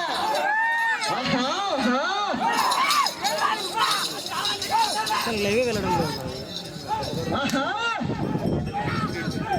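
A crowd at a bull race yells and whoops loudly, many overlapping voices rising and falling in excited shouts close by.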